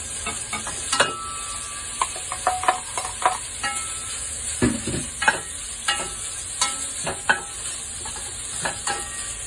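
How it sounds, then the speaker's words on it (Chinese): Beef pieces stir-frying in a pan over medium heat for tomato and potato beef soup, with steady sizzling throughout and repeated clinks and scrapes of a utensil against the pan, close and without talk. "咁我哋首先呢爆嗰啲牛肉啦"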